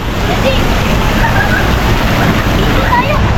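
A large tipping bucket at a water park dumps a flood of water, giving a loud, continuous rushing and sloshing roar close by that fills the whole stretch.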